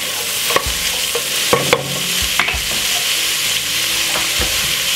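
Cabbage for a Jamaican-style stir fry is tossed and stirred in a hot pot. A bright sizzle runs throughout, broken by a few sharp clacks and scrapes of the utensil against the pot. Loud, close and without speech.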